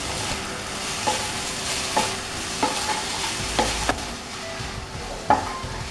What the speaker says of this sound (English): let's shake this rice up and let's see if any kind of stickiness is there